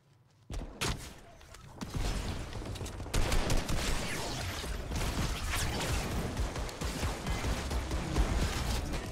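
Gunfire in the video game Fortnite, with a sniper nearby: sharp shots and bursts crack over a busy, continuous battle din, loud and close, with no clear talking.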